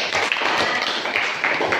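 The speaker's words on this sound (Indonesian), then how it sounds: "mari kita tepuk tangan untuk Gray" A classroom of students claps for a classmate, a brisk, close burst of many hands that keeps up evenly for a couple of seconds with no talking over it.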